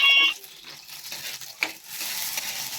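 Chopped onions and tomatoes sautéing in a pan for chicken liver adobo, with a light steady sizzle and a few brief scraping stirs, one sharp clink near the middle.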